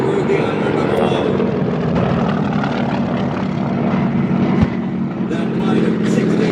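Propeller-driven warbirds roar past at a Tora Tora Tora Pearl Harbor reenactment during the 2017 Joint Base Andrews Air Show, a loud, continuous engine drone with a sharp bang partway through, under faint announcer talk.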